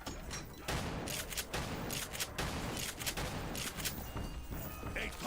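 Machine gun fire in Black Ops 3 custom zombies comes as dense, continuous rattling volleys that stay loud and steady, with a voice briefly talking over the shooting.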